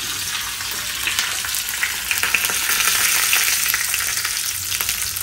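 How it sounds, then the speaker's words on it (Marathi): Ghee and curry leaves sizzle steadily in a hot pan for a kulith soup, a dense, crackling fry with faint stirring scrapes, holding close and fairly loud throughout. "त्याच्यात तूप आणि कढीपत्ता टाकलाय।"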